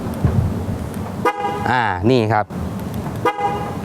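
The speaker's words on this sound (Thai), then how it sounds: "เปลี่ยนเป็นเสียงแตรรถเบนซ์ให้กับลูกค้านะครับ" A deep, mellow two-tone Mercedes-Benz style car horn fitted to a Ford Ranger Wildtrak sounds in one long honk, close and loud, between brief bits of someone talking nearby.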